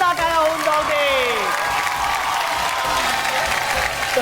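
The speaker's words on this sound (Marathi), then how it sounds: "जोरदार टाळ्या होऊन जाऊ दे." A studio audience applauding and cheering for a runner-up on a television show, a loud, sustained burst of clapping with whoops, under a host's voice at the start.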